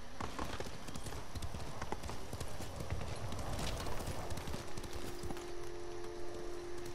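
Hooves clip-clop steadily as a horse moves along in the video game Ghost of Tsushima, a brisk, even rhythm of close hoofbeats with a faint whinny near the start and a low sustained tone entering near the end.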